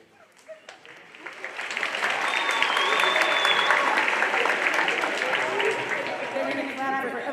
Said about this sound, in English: Give it up for the dancers.